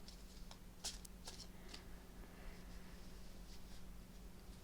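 Crisp riffling taps and soft papery rustles as a new deck of tarot cards is shuffled up close, with a steady low hum underneath and no voices.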